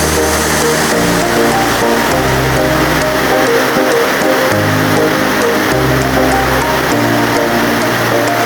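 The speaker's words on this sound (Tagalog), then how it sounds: "kasi malakas pang ulan" Heavy rain pours down steadily outside a home, a loud, dense and continuous hiss of drops striking surfaces that never lets up, with no voices over it.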